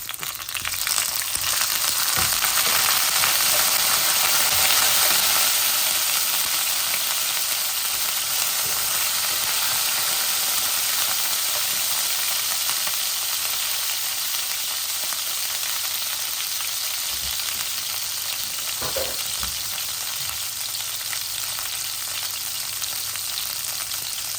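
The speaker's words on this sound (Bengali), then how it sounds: "লাল হয়ে গেছে জিরা, কারণ তেল নেন আমি বাক্কা আগে বয়াইছি।" Cumin seeds and a generous amount of garlic fry in oil heated well in advance, giving a loud, steady sizzle that runs nonstop with occasional stirring scrapes, close and alone without any voices.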